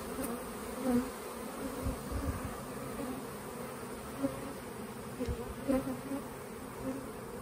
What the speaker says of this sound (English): My buddy's bees up there.